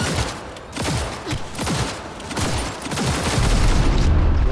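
Gunfire against scavengers in the Cyberpunk 2077 game crackles in loud, rapid overlapping bursts with booming impacts, building into a heavier, denser roar toward the end.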